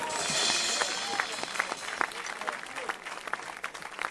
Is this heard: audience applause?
yes